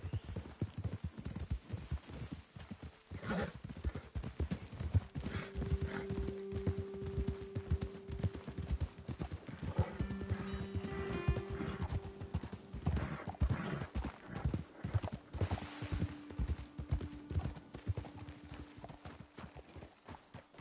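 Steady horse hooves clip-clopping at a walking pace throughout in Red Dead Redemption 2, with a low sustained tone humming underneath.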